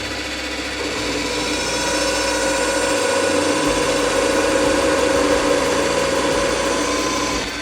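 A Scheppach DP55 benchtop drill press runs steadily, its motor giving a continuous even hum that swells slightly after starting and holds at a constant level throughout, close and fairly loud with no talk.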